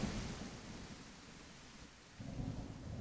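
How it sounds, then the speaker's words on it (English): Steady rain in a video game, a constant hiss of falling water with low rumbling underneath, swelling slightly louder near the end; no voices. "the rain is too loud"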